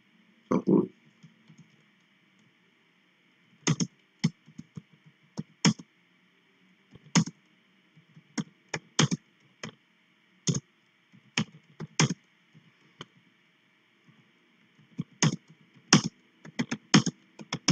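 Computer keyboard typing in irregular bursts of close, crisp key clicks with short pauses between them, over a faint steady background hum.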